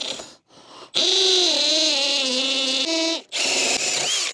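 A hammer drill bores through a board during a homemade greenhouse build, its motor whining in three close, loud bursts separated by brief pauses.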